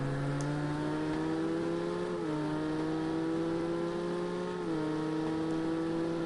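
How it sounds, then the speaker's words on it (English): LMP2 and GTE race cars battle in a racing video game on the Belgium GP circuit, their engines a steady, layered high whine held at constant pitch with a couple of brief gear-shift dips, with no voices. "It's remarkable to see an LMP2 car and a GTE car battle, isn't it?"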